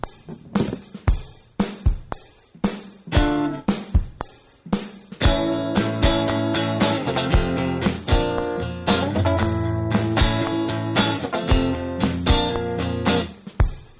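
Guitar strumming starts with short choppy muted strokes, then opens into full, ringing chords played in a steady rhythm, close and fairly loud.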